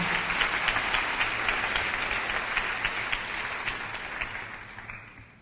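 Applause from the audience at an 8th grade graduation ceremony for a student speaker, steady and fairly distant, fading out toward the end.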